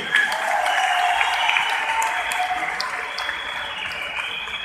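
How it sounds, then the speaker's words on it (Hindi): A crowd claps at a company fourth-anniversary event, a moderate, continuous applause heard a little distant that eases off slightly toward the end. "जोरदार तालियां"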